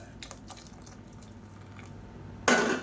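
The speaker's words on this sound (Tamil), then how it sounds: "இன்னும் கொஞ்சம் தண்ணி சேர்த்துக்கலாம்" Scattered drips, then a short burst of water poured into a pot of curry, close and clear, with no one talking.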